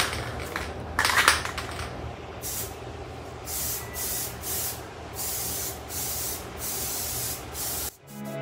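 Aerosol paint sprays onto car wheels in a DIY refinish, a series of close, hissing bursts of about a second each separated by short pauses, with a clatter near the start and a shift to a different noise at the end.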